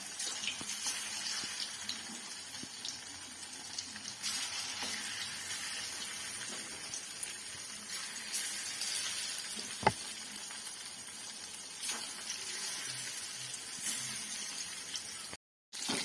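Chicken pieces frying in hot oil for chilli chicken, a steady close sizzle running throughout with faint stirring and a brief clatter near the end, no voices.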